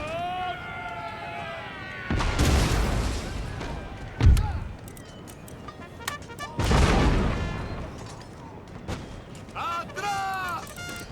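Heavy artillery booms roll out in two long, loud bursts with a sharp crack between them in a Total War battle, while soldiers' voices shout orders over the barrage.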